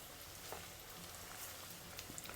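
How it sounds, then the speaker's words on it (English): Garlic popcorn chicken pieces fry in hot oil to a light golden brown, giving a steady, fairly soft sizzle with faint crackles and pops and no voices. "we just need to fry this to a light golden brown and remove them before we fry them for the second time"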